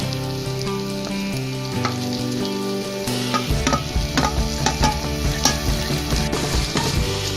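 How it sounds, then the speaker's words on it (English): Chopped tomatoes and green chilies frying with onions for a chana masala, a steady loud sizzle under clear background music, with scattered stirring scrapes in the second half. "And now fry till the tomatoes turn soft."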